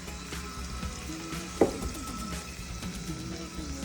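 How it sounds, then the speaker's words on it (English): Olive oil sizzles in a pan while a turkey mostaccioli sauce is being made, a steady low frying hiss with one sharp clink partway through. "I'm letting that simmer. We're reducing it, but now I add olive oil."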